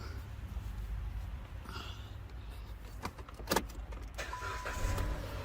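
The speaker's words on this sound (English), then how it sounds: "Now, because this is a new battery, this car should fire right up." A car that has just had a new battery fitted cranks and starts after faint key jingling, with brief sharp starter clicks giving way to a low, steady engine hum, all close by and fairly quiet.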